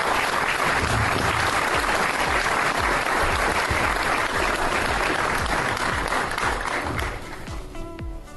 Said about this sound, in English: one more round of applause for the Hall of Famer, Donald Glover.